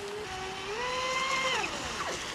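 A small, high-revving motor of a Traxxas Disruptor RC speedboat whines and shifts pitch as it speeds across water, throwing a big roost of spray with a steady rush underneath, fairly close.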